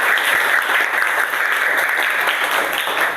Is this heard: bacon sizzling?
no